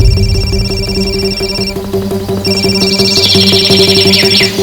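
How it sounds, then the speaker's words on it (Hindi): A phone rings loudly and close in repeated electronic ringtone bursts with a brief pause midway, heard alone without talk during a crime drama scene. "मेरा फोन बज रहा"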